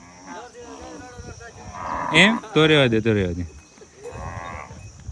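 A herd of cows standing together at a Gujarati farm moos at close range, with several loud, drawn-out calls in a row. People talk underneath the lowing.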